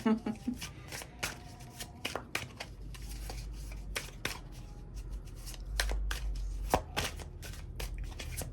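Tarot cards are shuffled and laid down nearby in quick, crisp riffles and flicks. The soft snaps and slides repeat throughout, under a quiet speaking voice.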